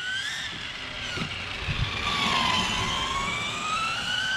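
A 1/5-scale FG 4x4 RC Clio car running on a 12S battery gives off a continuous whining drone that rises and falls with light throttle and braking, moderately loud and steady throughout.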